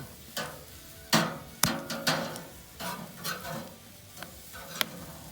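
Sheep mountain oysters cook on a grill, with a soft sizzle broken by several sharp clinks and scrapes of a utensil, close and fairly quiet, with no voices.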